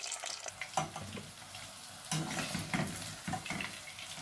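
Potato chips frying in hot oil in a home kitchen, a soft continuous sizzle broken by clattering stirs and scrapes of a utensil.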